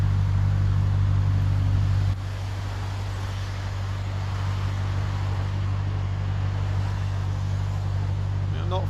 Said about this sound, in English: You can just about hear me over the cacophony of the traffic.